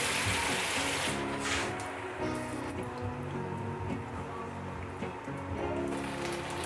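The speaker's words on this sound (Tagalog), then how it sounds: "Lagyan natin ng tubig." Water is poured into a pan of flour-thickened sauce for tofu and cream dory, a close, steady splashing and bubbling pour that carries on throughout with no voices.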